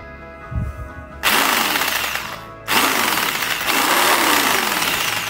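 A 450W RTRMAX RTH150 electric scroll saw starts with a loud, buzzing rattle, stops briefly, then starts again and runs steadily close by.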